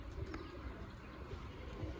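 Pigeons coo softly and somewhat distantly amid low outdoor rumble, a faint continuous murmur of calls with no clear speech.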